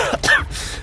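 A short, harsh cough or throat-clear bursts out once after a soft breath, close and alone, following a heavy soaking by water.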